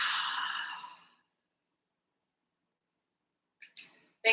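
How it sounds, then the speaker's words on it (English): A long breath exhaled through the mouth at the close of a side-body stretching session, a soft airy rush lasting about a second, followed by silence and a few faint small noises near the end. "Exhale out through the mouth."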